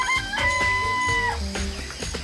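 Chickens in a coop in the video game Danganronpa: Trigger Happy Havoc, a loud, close rooster-like crow with a long held note followed by a few short clucks, heard alone without talk.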